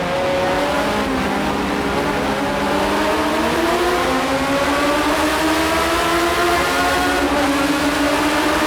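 A race car engine in the rFactor racing game screams at high revs, pitch climbing steadily through the gears, loud and continuous with no pauses.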